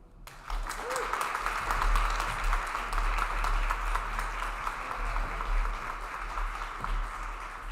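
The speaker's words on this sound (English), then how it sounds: "Let's give her another round of applause" Sustained crowd applause from a large audience at a Disability Mentoring Day reception, steady and full, with some voices mixed in beneath it.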